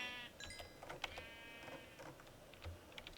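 Sheep in the Minecraft Forgecraft video game bleat faintly in a couple of short, wavering calls, quiet against soft clicks and background game noise, with no voices.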